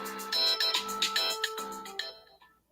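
A phone ringtone plays, a bright repeating melodic trill in quick pulses lasting about two seconds before cutting off, clear and close with no talk.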